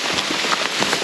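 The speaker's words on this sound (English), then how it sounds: "suddenly it was a downpour with like massive drops of rain" A sudden downpour of massive raindrops lashes down outdoors in Britain, a dense, loud patter of heavy drops striking surfaces nearby.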